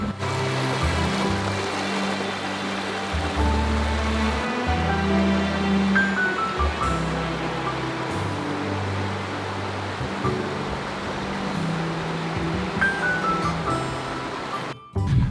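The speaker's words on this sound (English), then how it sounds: "Wow, check this river out." A river in the Alaskan backcountry near Port Alsworth rushes steadily and broadband, a close, continuous wash of flowing water with no pause, heard alone without voices.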